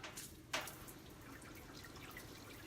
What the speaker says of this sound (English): all of these orifices have water coming out of them. Plenty of flow.